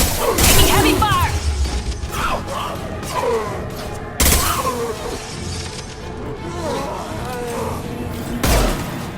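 Heavy gunfire in a Mass Effect 2 firefight, dense bursts of rapid shots with shattering impacts and whooshes, loud and continuous, with a voice speaking over the action.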